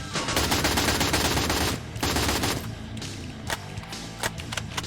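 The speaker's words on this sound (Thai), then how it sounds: "กระสุนจะหมดแล้วอะ่ะยิงแป๊บเดียวเอง" Automatic M4A1 gunfire in the Free Fire video game: a dense rapid burst for about two seconds, then shorter sporadic bursts and single shots, loud and close with no talking.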